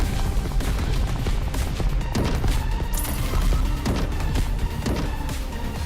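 Cannons blasting in the arcade game Missile Command, a dense, continuous barrage of loud booming shots and crashing explosions layered over each other without pause.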